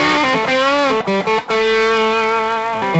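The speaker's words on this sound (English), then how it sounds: "I'm using right now as a centerpiece a full-tone OCD, which gives me a really nice distortion tone" An electric guitar played through a Fulltone OCD distortion pedal rings out with thick, sustained overdriven chords, loud and close, with a brief choppy break mid-phrase before the tone holds steady.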